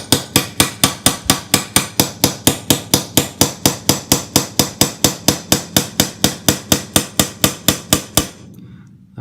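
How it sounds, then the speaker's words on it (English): A small hammer lightly tapping a flat face punch against the gas cylinder of an M1 Garand rifle, about three dozen quick, even metallic taps in a steady rhythm, close and loud, then stopping. "I just use a small hammer and a flat face punch for this."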